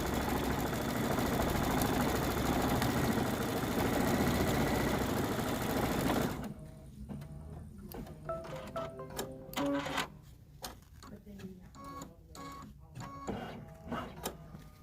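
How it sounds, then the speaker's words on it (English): An in-the-hoop embroidery machine stitches a stipple fill inside a shamrock coaster design, a loud dense mechanical whir for the first six seconds, then quieter irregular stitching taps and clicks. "We're going to stitch the stipple inside of our leaf, Shamrock."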